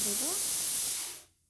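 Water poured into a hot pan of fish curry with spices hisses loudly and steadily for about a second, then cuts off abruptly. A brief voice is heard at the start.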